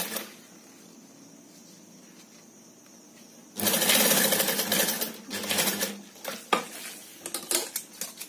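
Sewing machine stitching a handmade purse, faint at first, then a loud burst of fast running stitches that continues in uneven bursts and stops.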